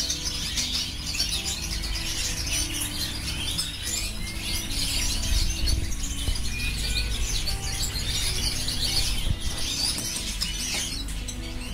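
Goldfinches in an aviary quarantine room chirp and twitter continuously, a dense layer of bright, overlapping calls over a steady low mechanical hum with no talking.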